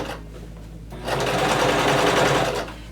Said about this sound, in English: Now lower your presser foot back down and continue sewing.